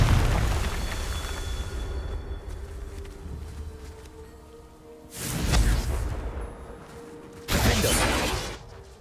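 Confringo fire-blast spells in the Hogwarts Legacy video game, heard as two sharp, loud explosive bursts a couple of seconds apart, rising out of a busy rumbling game background.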